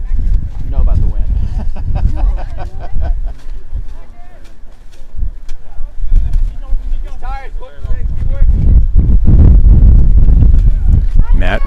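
Wind buffets the microphone at an outdoor high school national invitational match, a loud, low rumbling roar that swells and surges throughout, growing stronger toward the end, under steady commentary from a voice.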